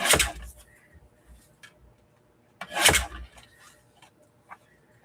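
Paper being trimmed for a handmade journal, two distinct rasping cuts about three seconds apart, close and fairly quiet, with faint handling noises between them and no talking.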